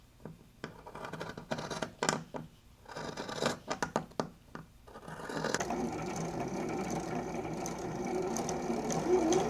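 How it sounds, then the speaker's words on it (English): Fabric scissors make a series of crisp snips while trimming a seam close, and then a steady, continuous mechanical whir from a sewing machine takes over. "So I'm just gonna trim this as close as I can."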